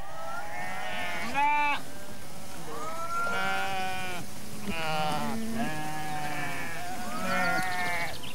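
A flock of Moorschnucke heath sheep bleats repeatedly outdoors, with several overlapping wavering calls from different animals at moderate distance over a steady background hiss.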